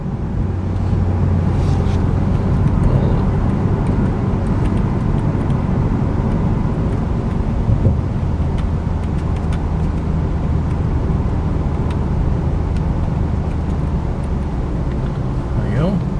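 Repairable salvage 2011 Cadillac CTS-V coupe cruising with a smooth, steady low engine and road drone throughout, while someone talks over it.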